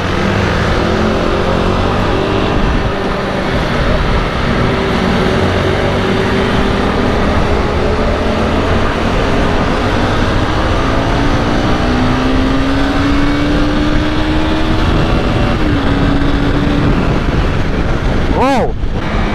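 A Honda CBR250R motorcycle riding at speed on a road, with a loud continuous engine drone whose pitch shifts as it accelerates, under heavy wind buffeting across the microphone.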